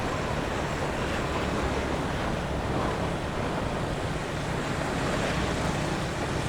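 Wind roars over a half-face retro helmet with the visor open while riding a motorcycle to work, a loud continuous broadband rush with no talking.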